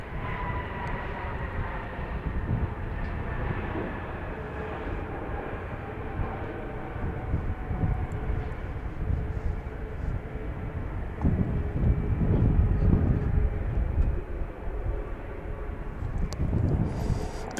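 A Southwest airliner rolls at Dallas Love Field, its jet engines making a steady broadband roar with faint whining tones. The noise holds for the whole stretch, swells a little near the end, and no one speaks.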